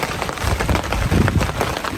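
Steady rain falls during an outdoor lunch on an overland trail trip through Georgia, a dense continuous patter of drops on nearby surfaces that stays loud and even from start to finish.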